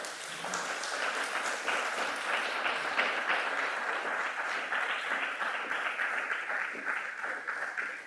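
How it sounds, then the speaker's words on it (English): Sustained audience applause fills a hall after a panel discussion on the student protests in Serbia. Dense, steady clapping from many people holds at an even level throughout, with no speech over it. "please an applause, and thank you very much"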